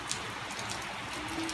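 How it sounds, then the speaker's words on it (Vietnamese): Heavy storm rain pours down steadily outdoors near potted bonsai guava trees, a dense continuous hiss of drops striking surfaces with no voices. "đang bão mà"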